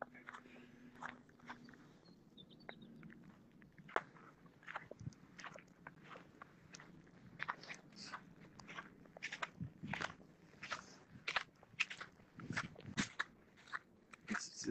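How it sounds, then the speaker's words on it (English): Footsteps crunching through a light dusting of icy snow on a walk up Glastonbury Tor, a steady series of crisp, close crunches that grows denser and louder toward the end. "Hear the crunch of the snow under the feet"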